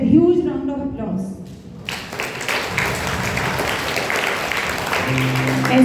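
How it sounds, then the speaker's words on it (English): A school audience applauds at a St. John's Senior Secondary School investiture ceremony. A voice speaks first, then dense clapping swells in and holds steady to the end, with a faint tone entering near the close. "Please welcome them with huge round of applause."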